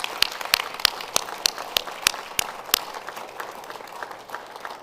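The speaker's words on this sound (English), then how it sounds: "So let's give them all a round of applause." Scattered claps from a synagogue congregation at a Shabbat service, a sparse set of distinct sharp hand claps in an uneven rhythm that thins out toward the end, with no talking.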